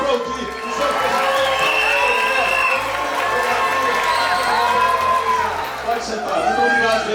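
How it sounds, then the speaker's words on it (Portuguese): A crowd at a law school graduation ceremony cheers, whoops and shouts, a loud, dense wall of excited voices with clapping mixed underneath, close and continuous throughout. "aplaudir o seu pessoal."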